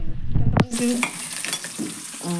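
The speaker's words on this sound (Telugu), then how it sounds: "తాలింపులు వేగుతుండగా" Tempering spices sizzle in hot oil for a bitter gourd and jaggery tamarind curry, heard as a close crackle with a sharp clatter at the start and brief popping bursts.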